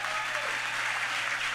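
A crowd applauds award recipients at the Torch Awards ceremony, a brief burst of steady, even clapping throughout.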